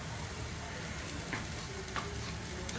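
Garlic and coriander fry in a pan with a steady, close crackling sizzle, joined by a few soft scrapes of stirring.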